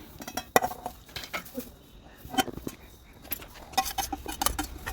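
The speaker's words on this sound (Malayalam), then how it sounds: "ഇനി പച്ചമുളകാണ് കട്ട് ചെയ്യാൻ വേണ്ടി പോണത്." A knife cuts green chillies for a star fruit pickle, making close, irregular sharp taps and light clinks against a board and utensils, with short pauses between cuts.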